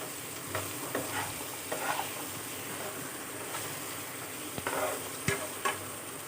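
Cucumber and vegetables fry in a pan with turmeric and salt, a soft constant sizzle broken by occasional scraping stirs and spoon knocks, close but fairly quiet, no talking.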